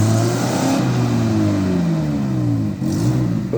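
Off-road car engine revving hard on a muddy track: a loud, close, sustained roar with rising and falling pitch sweeps, a brief dip near the end before the engine picks up again.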